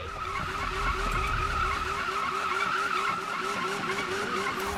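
A car skids through a drift race in Need for Speed 2015, with a steady, loud tire squeal and engine tone holding unbroken for several seconds and no voices.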